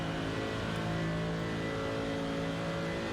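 Mercedes GT3 engine in a racing video game at full throttle on Road America, a loud sustained high-revving roar holding steady pitch with no pause.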